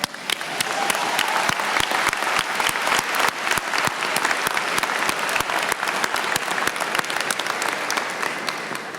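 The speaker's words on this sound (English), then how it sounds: "Let's have a round of applause for Professor Kevin Frick." Graduation ceremony audience applauding steadily for a professor, dense continuous clapping from a large crowd at moderate distance, sustained evenly throughout without speech.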